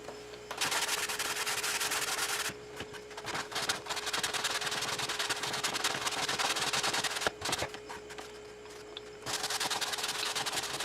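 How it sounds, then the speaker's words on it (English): A sander works a painted furniture surface to strip ink printing, a loud, continuous close abrasive whir broken by a few brief pauses, with no voices. "I'm just going to sand that down real quick before I get started with the paint"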